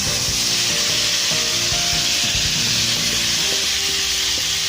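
Tomatoes stirred into a pan of frying broiler chicken, a steady loud sizzle running throughout with irregular scraping and rubbing from the utensil against the pan, no voices.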